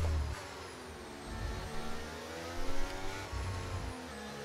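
Race car engines whine and rev on a track in a video game, a steady buzzing drone rising and falling as cars accelerate, with synthetic game-like tone.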